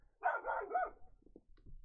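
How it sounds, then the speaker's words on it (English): A pet dog barks a short burst of two or three quick yaps close by, followed by faint whimpers, with no talking over it. "That's our dog, guys."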